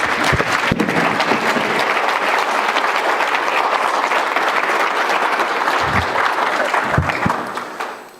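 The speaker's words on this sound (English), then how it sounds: "please join me in giving him a round of applause" A conference audience applauds a welcomed speaker with dense, steady clapping for about eight seconds that fades out at the end.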